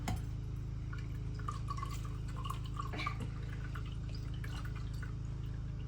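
Fruit juice drips from a homemade fruit press in small scattered drops over a steady low hum, faint and irregular.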